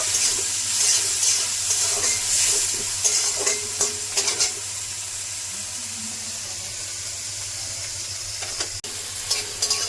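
Onion fries with salt in a pan for a Bengali-style doi begun, a continuous close sizzle broken by repeated scraping and stirring strokes, with no talking.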